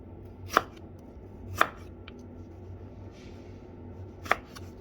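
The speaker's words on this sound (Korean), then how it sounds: "양파 반개 이렇게 썰어 주시고, 당근도 길쭉하게 약간만 썰어 주시면 되겠습니다." Three crisp knife chops through onion and carrot on a cutting board, spaced irregularly, fairly close over a quiet kitchen background.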